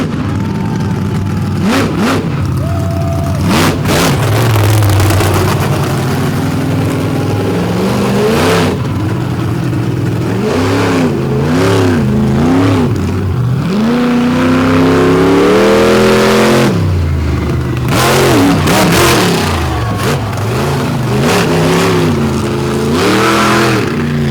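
A monster truck with a big block Chevy engine mounted in the back revs loudly and continuously at the start of a freestyle run at an all-star finals event, its engine note rising and falling through repeated throttle blips close up, with no talk over it.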